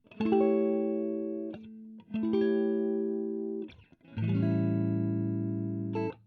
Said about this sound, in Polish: czyli trzy pozycje akordu septymowego dominantowego po kolei z prymą na czwartej,